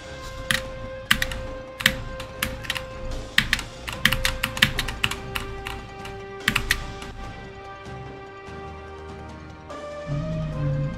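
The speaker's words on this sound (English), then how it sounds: "I'm using my keyboard for platformer. The Wooting 2 HE." Rapid, irregular clacking keystrokes on a Wooting 2 HE keyboard, close and crisp, over a steady tonal game music bed with no talking.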